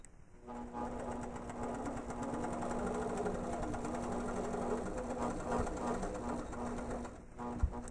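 An APQS longarm quilting machine stitches steadily through a quilt while binding is attached, its motor humming continuously up close with a fast, even mechanical rattle before stopping near the end.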